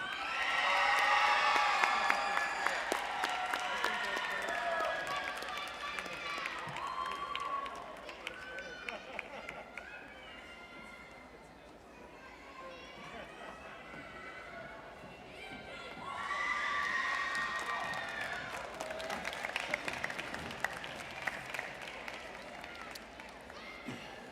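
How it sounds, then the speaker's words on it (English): Crowd cheering and applause for graduates at the SUNY Broome 2026 commencement ceremony, a steady roar of whoops, shouts and clapping that swells near the start and again in the later part, with voices mixed throughout. "Let's give our graduates one more round of applause"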